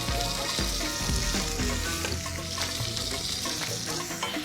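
Loud, continuous sizzling and crackling of spice paste frying in a hot pan before going on pork, with occasional stirring scrapes.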